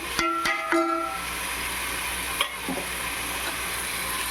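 Ginger and garlic fry with browned onions in oil for a Rayalaseema chicken biryani, a steady hissing sizzle with a few quick utensil clinks near the start.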